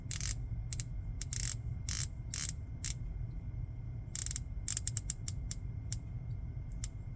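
A Christopher Ward C60 Trident Pro 300 dive watch bezel clicking as it rotates, giving crisp close ratcheting clicks in irregular runs and single ticks over a quiet background.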